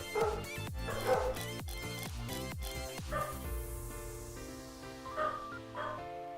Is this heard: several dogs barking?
yes